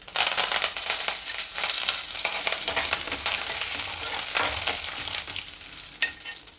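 Curry leaves with urad and chana dal crackle in hot oil for a tempering, producing a loud, crisp sizzle with sharp spitting pops and occasional stirring scrapes, close and steady throughout.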